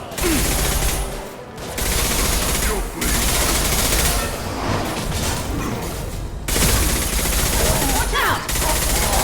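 Sustained rapid gunfire and bursts in Mass Effect 2, loud and dense throughout with brief pauses, overlapping game effects and some voices.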